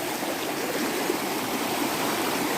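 A stream of cold, clear water flows steadily nearby, a loud, continuous broadband rush of running water with no voices over it.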